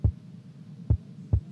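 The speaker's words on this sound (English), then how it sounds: "Okay, that's my heartbeat." Heartbeat sound effect from a horror video game: three deep, muffled low thumps, the first two close together and the third after a longer gap, each with a soft echoing pulse, alone over faint background hum.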